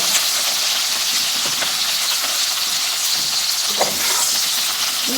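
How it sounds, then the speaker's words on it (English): Capsicum sautéing over high heat, a loud, steady, hissing sizzle that fills the whole stretch, with occasional faint stirring knocks underneath. "we are going to quickly saute these capsicum. Put it on high fire."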